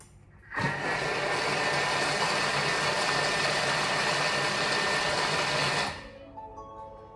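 Kitchen mixing machine running at speed 5 for a few seconds, a sudden start into a steady, loud motor whir and buzz that holds evenly, then stops abruptly, leaving a quiet room.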